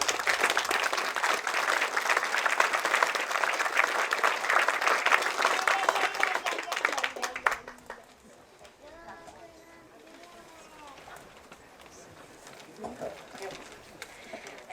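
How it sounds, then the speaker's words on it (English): An audience gives a round of applause at a sculpture program event, dense clapping for about seven seconds that cuts off abruptly, followed by a speaker talking over a quiet room. "For a round of applause for them."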